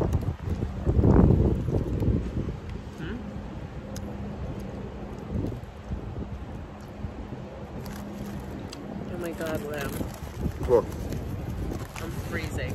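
Gusty outdoor wind on a cold, overcast day rumbles and buffets steadily across the whole stretch, loudest near the start, with people talking over it and scattered faint knocks.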